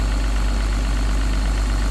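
A 320L log loader's engine idles while warming up after a new radiator hose was fitted, giving a loud, steady, low diesel rumble with an even knocking pulse and no talk over it.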